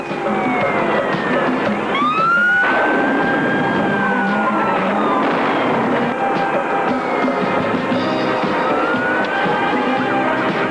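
A loud wailing siren sweeps up and down close by over a constant roar of traffic, with no talking.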